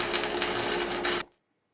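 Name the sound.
small welder welding steel gong target rack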